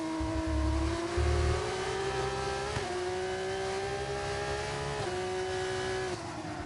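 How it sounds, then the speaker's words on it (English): An F2 race car engine screams at high revs against the rev limiter, a sustained tone that stays loud and up close. Its pitch wavers and dips briefly a few times. "He's absolutely, crucially revving her out big time. You can hear it on the limiter."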